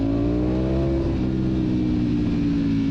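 Ducati V4 motorcycle engine under way while riding, a loud, steady multi-cylinder drone that climbs slightly in pitch and holds near and constant for the full three seconds.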